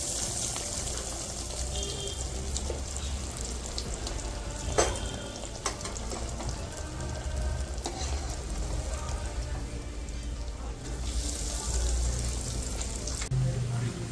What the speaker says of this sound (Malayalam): അങ്ങനെ ഇതാ ഡീപ്പ് ഫ്രൈ ആയിക്കൊണ്ടിരിക്കുന്നത്.